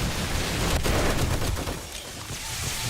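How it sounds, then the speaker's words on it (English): Automated turrets fire in rapid bursts inside the game 7 Days to Die, defending a fortress against zombie hordes, with a dense, continuous crackle of gunfire throughout. "Now I've got my turrets helping out here."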